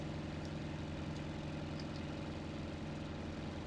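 A Mitsubishi A6M5 Zero fighter's engine in IL-2 Sturmovik, overheating, drones steadily with a loud, even low rumble that holds constant throughout without any voices.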